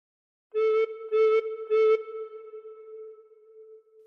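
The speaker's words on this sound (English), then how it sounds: "put fingers 1 to 2 on holes 1 to 2 and blow 3 times" Three blown recorder notes on a single pitch from a phrase of The Star Spangled Banner, each tongued and held briefly in an even rhythm, the last one ringing out and fading, close and clear with no voice.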